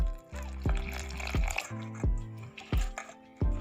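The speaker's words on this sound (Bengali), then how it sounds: "একটু জল দিই।" Water goes into a stiff flour dough for goja while hands work it, wet squishing and splashing pulses recurring every half second or so at close range.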